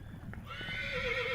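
Wild horses at a temporary holding pen during a roundup, with a clear neigh rising and wavering over soft hoof clatter and background rustle, fairly close and moderately loud.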